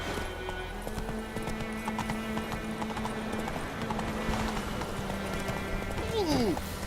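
A horse urged into a gallop in The Witcher, rhythmic clip-clopping hooves carrying through the whole passage under spoken game dialogue, ending with a short whinny.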